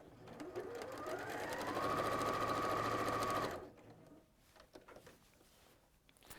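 Sewing machine with a standard presser foot stitching around the edges of a fat quarter fabric skirt, a loud steady whirring run of about three seconds that stops abruptly, followed by quiet handling.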